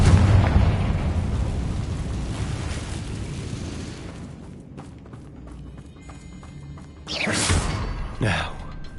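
A Confringo spell in Hogwarts Legacy goes off as a loud, booming blast that fades into a rumbling tail, and a sharp second burst cracks out near the end.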